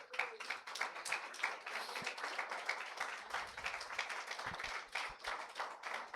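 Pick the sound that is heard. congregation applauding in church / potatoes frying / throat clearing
congregation applauding in church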